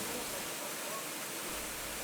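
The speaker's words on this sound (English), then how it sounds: "they pump in water into the caisson" Water rushes steadily into the caisson of the Saint-Louis–Arzviller inclined plane canal boat lift, a loud, broad continuous gushing roar with no pauses.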